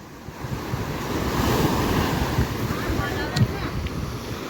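Sea waves break steadily on the shore at a beach where people play ball in the water, a continuous loud surf roar with wind buffeting the microphone and a few stronger surges.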